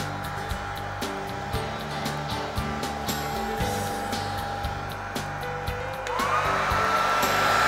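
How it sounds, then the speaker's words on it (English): A hair dryer blows steadily over a freshly painted NYC Hudson model locomotive, a constant close roar with small clicks and knocks, rising in pitch and strength near the end. "and blow this dry. I want to get the liquid off of it."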